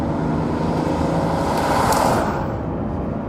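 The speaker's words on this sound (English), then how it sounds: "combine the two and there's a wild nature to this engine" An Aston Martin One-77 EVO with variable cam timing and a sport mode drones steadily from inside while driving, a constant engine and road roar that swells slightly midway, with no talking.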